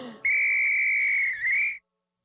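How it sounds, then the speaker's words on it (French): A hunter blasting a whistle as hard as he can: one long, loud, piercing shrill tone that wavers slightly near its end before cutting off abruptly, heard alone. "Monsieur Génie fut vraiment surpris par l'extraordinaire coup de sifflet du grand chasseur de hockey"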